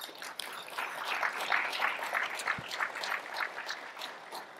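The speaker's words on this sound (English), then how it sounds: "let's give Rudy a round of applause" Audience applause at a 2023 State of Energy chamber of commerce event in North San Antonio, a moderate round of clapping that swells and holds steady for several seconds, alone without talk.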